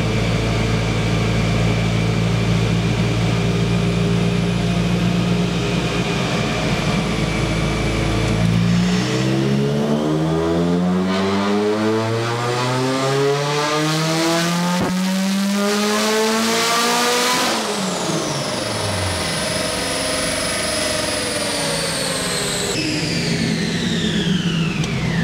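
A Rotrex supercharged car engine revs steadily through a long dyno power pull, loud and continuous, with the pitch climbing, then falling away and rising again over a constant whine.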